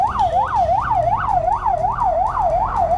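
A wailing ambulance siren sweeps up and down in a fast, repeating cycle, loud and close over low traffic rumble on a road.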